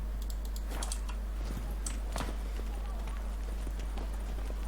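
Horse hooves clip-clopping in The Witcher 3 video game, a run of quick, fairly soft hoofbeats in irregular clusters over a low steady background hum.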